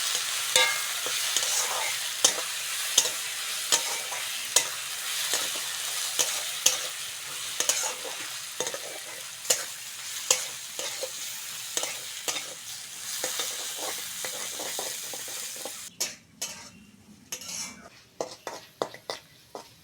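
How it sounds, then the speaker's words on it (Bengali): Washed moong dal frying in hot oil, a steady close sizzle broken by frequent sharp scrapes and clinks of a spoon stirring against the pan, with a brief quieter stretch near the end. "তেলের মধ্যে ডালটা ভালো করে ভেজে নেব।"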